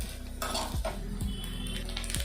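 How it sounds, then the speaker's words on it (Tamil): Flattened rice (aval) roasting in ghee in a pan, with a spoon scraping and clinking against the metal in quick strokes over a low sizzle. "நெய்யில் வறுத்து போட தான் டேஸ்ட் வந்து நல்லாயிருக்கும்."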